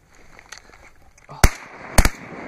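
Two loud shotgun blasts during early-season duck hunting in Rhode Island, the first sharp report followed about half a second later by a second close, double-cracked shot, over a quiet outdoor background with faint voices.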